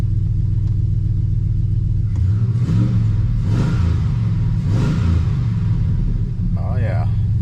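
Cadillac Escalade EXT with a 6.0 LS V8 idling steadily after a spark plug repair, a close, loud, even rumble with a couple of light revs rising over it.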